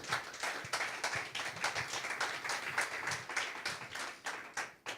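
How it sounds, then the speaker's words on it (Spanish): A congregation at a church service claps steadily and loudly, a dense run of sharp hand claps with no voices over it. "Denle un aplauso al Señor."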